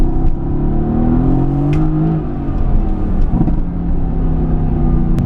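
A Mercedes-AMG GT S engine hums and surges with steady low rumble and rising revs, close and loud throughout with no talk.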